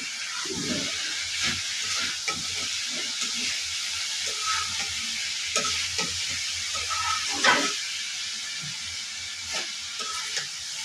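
Cabbage, beans and potato bhaji fry in hot oil with a continuous close sizzle, interrupted by scattered stirring scrapes and crackles, with no talking.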